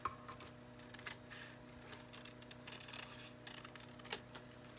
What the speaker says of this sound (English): I'm going to cut a bit more off here